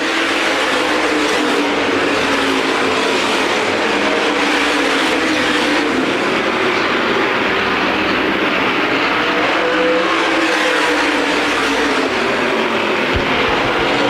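USA Modified race cars roar around the Winchester Speedway oval in a dense, loud pack, engines blending into a continuous throbbing drone that swells and fades slightly as they pass.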